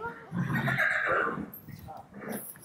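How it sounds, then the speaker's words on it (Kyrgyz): A horse whinnies loudly and close by in a stable yard during a children's riding lesson, one long drawn-out call with a softer snort after it, and voices are faintly present. "Кой тур азыр ат чыксын биринчи"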